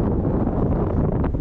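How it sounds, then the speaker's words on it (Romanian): Very strong wind buffets the microphone on a ski slope, a loud, continuous roaring rush with steady gusting that fills the whole clip without any voices. "Bate un vânt foarte, foarte puternic."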